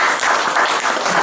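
Church congregation breaks into brief, dense applause, a loud continuous patter of many hands clapping together.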